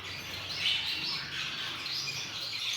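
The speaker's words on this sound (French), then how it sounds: "Voilà les trois couples que j'ai mis en place pour les diamants de Gould" Gouldian finches kept in breeding pairs in an aviary give soft, steady high chirps and twitters that overlap continuously, with no talking.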